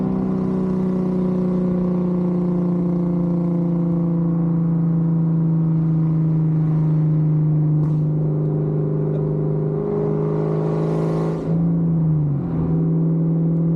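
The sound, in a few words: 1999 Kenne Bell Cobra car engine accelerating at full throttle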